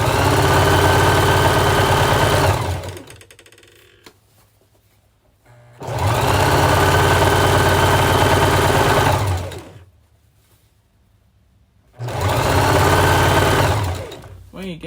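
A sewing machine stitching a fabric scrunchie runs in three loud, sustained bursts of fast mechanical whirring, separated by quiet pauses.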